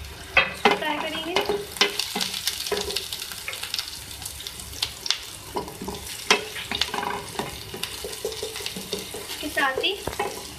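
Chopped green chillies fry in a pan for a Chinese macaroni samosa filling, a crackling sizzle broken by frequent sharp stirring clatters and splashy bursts, with some faint background noise.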